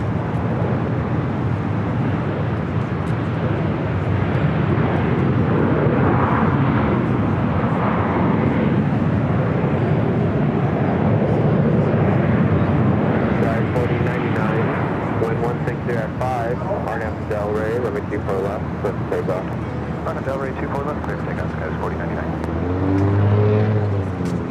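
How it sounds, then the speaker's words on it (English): An Aeromexico Boeing 737-800 takes off from Los Angeles airport, a continuous broad engine roar that swells and holds across the whole stretch while people talk over it nearby. "Aeromexico 785 taking off to Guadalajara. 737-800."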